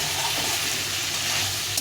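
Boiled figs sauté in a little spiced oil with onion and garlic, producing a continuous dense hiss of frying, close and even throughout with no talking.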